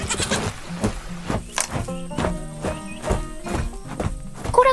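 A white goat bleats repeatedly in a farm pen, loud and close, with rhythmic clip-clop hoof steps and other barnyard noise around it.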